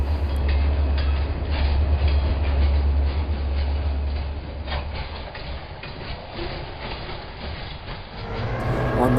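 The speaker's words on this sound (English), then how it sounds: "He simply coupled up to his freight train and headed out." A freight train rolls along railway tracks with a heavy, continuous low rumble and rhythmic clacking of wheels, loud and close at first, easing slightly midway, then swelling again.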